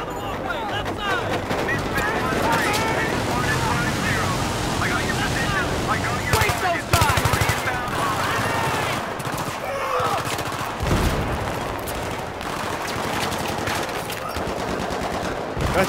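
Light machine gun fire in the video game Battlefield 3, with dense rapid bursts and scattered gunshots and explosions forming a continuous loud battle din, and voices heard under the shooting.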